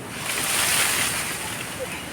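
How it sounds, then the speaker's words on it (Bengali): Strong wind gusting around a mango tree in a garden before rain, a steady broad rushing roar that swells slightly in the middle and stays loud throughout, with wind buffeting the microphone. "ওইদিকে হাওয়া চালু হয়ে গেছে, ওই দেখো হাওয়ার তাণ্ডব শুরু"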